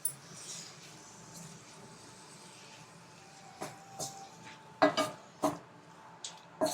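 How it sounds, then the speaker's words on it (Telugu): Kandanakaya vegetables stirred into hot oil in a pan, giving a low steady sizzle with a handful of sharp metallic scrapes and clinks from a spoon against the pan toward the end, close and fairly loud. "వేసేసి మంచిగా ఆయిల్లో కలిసిపోయేలాగా కలిపేసుకోవాలి."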